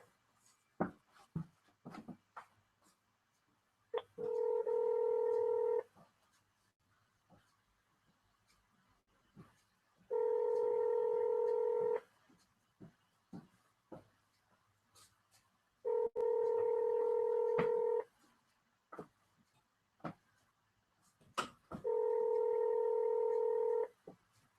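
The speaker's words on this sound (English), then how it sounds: "while Darren Muhammad is trying to figure out whether he want to pick up the phone" Ringback tone of a phone call waiting to be picked up, with four long rings at even intervals and faint clicks and taps in the quiet gaps.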